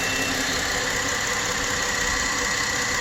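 A 2003 Chrysler Sebring with a 2.7 engine runs with heavy blow-by after an engine swap, giving a steady, close mechanical drone with a faint ticking knock and constant hiss, with no talking.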